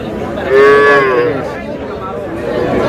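At a busy rural cattle market, a young bull calf lets out one loud, drawn-out moo close by over a steady murmur of the crowd.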